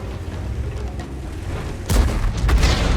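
A World of Tanks tank cannon, on the 50TP prototype heavy tank, fires one heavy booming shot partway through, rising sharply over low engine rumble and leaving a rolling tail.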